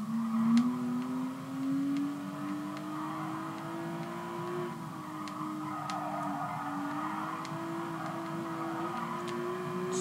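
A racing car engine from Gran Turismo Sport drones steadily at mid revs, its pitch rising slowly then dipping and climbing again, with faint ticks over the top and no talk.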